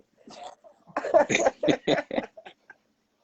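A burst of several harsh coughs in quick succession, close and fairly loud, with a softer cough before and a couple of small trailing ones.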